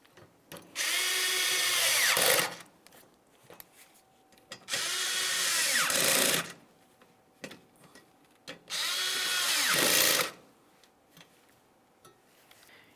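A power drill snugs up fasteners on the front inner fender liner of a 2003-2011 Mercury Grand Marquis in three whirring bursts of about two seconds each, separated by quiet gaps with small clicks, close and without speech.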